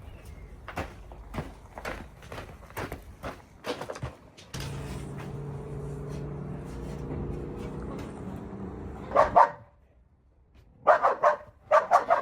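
A neighbour's dog barks in sharp repeated bursts, with pauses and a steady rumbling hum through the middle, then more barking near the end, in a home garden.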